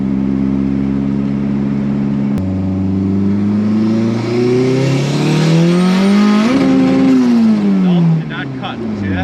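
A Toyota AW11 MR2 engine floored, revs climbing loudly and steadily to a buzzing peak at the rev limiter, then dropping away, heard from inside the car with someone talking.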